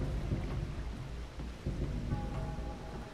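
Thunderstorm in the video game Far Cry 3: Blood Dragon, with steady heavy rain and low rumbling thunder filling the whole stretch at an even, moderately loud level, no voices.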